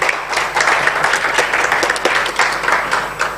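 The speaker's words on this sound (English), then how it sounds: "Give yourselves a round of applause for being here on a Friday morning" A conference hall audience on a Friday morning claps in sustained applause, a broad wash of many hands with a few sharper individual claps standing out.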